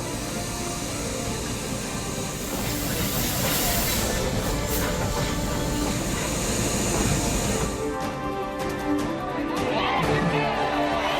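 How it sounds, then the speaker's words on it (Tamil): Ooty mountain railway train running from Mettupalayam toward Udhagamandalam, a steady hissing, rumbling rail noise with some clattering and brighter bursts near the end, moderately loud and continuous. "மேட்டுப்பாளையத்திலிருந்து உதகைக்கு ரயில் இயக்கம்."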